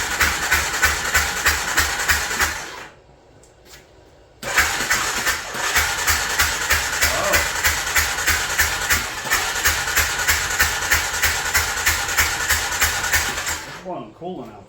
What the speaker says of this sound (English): Let me crank it again because it was flooded.